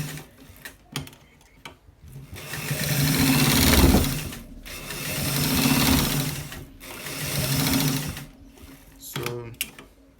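A sewing machine stitches a double shirt collar in several swelling runs of whirring, rattling needle action, separated by quieter handling clicks and pauses, close and without speech.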